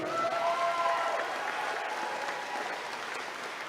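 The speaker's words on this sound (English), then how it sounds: "let's give another round of applause to all our candidates here" Steady applause from an audience at a Navajo Nation presidential candidate forum, many hands clapping together in a dense, continuous wash that holds through the clip.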